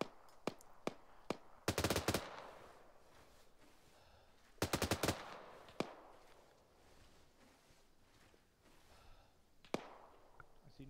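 Machine gun fire in the Arma 3 military shooter during a multiplayer helicopter operation: single sharp shots and two loud rapid bursts, crackling at moderate distance with quiet pauses between.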